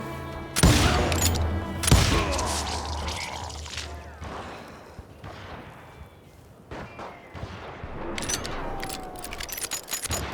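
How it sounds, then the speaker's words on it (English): Gunfire in the Wild West shooter Call of Juarez: Gunslinger, with loud sharp shots near the start and around two seconds. Clattering, thuds and ringing follow, and more scattered shots come later, with no voices. "I heard the shots and I knew I had to move fast"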